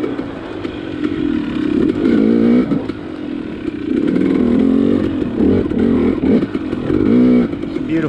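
A dirt bike is ridden through a forest on a sunny day, its engine buzzing loud and close and rising and falling in repeated revving surges as it moves along the trail.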